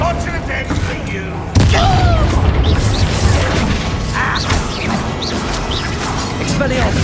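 Loud spell blasts and explosive crashes erupt in a Hogwarts Legacy fight in goblin tunnels, with a sudden heavy impact then a steady roar of bursts and whooshes as a voice talks over the action.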